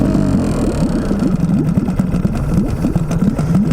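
A Yamaha 5 single-cylinder outboard boat motor chugs loudly with a rough, rapid knocking rhythm, running unevenly at idle after starting, with no talking.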